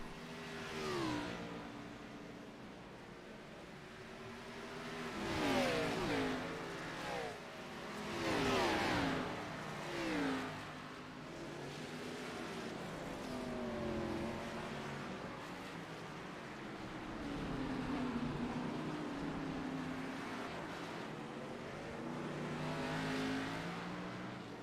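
Race cars on the Long Beach street circuit: engines rise and fall as cars pass by close and far, with repeated revving sweeps and a constant motor drone over about twenty-five seconds.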